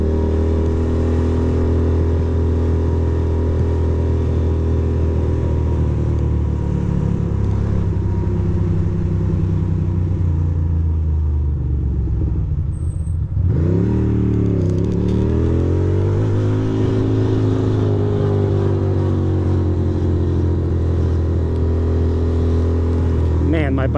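A Ducati motorcycle engine idles loudly and close in a city street, then revs up and falls back in a rising and falling sweep. It stays steady and throaty throughout.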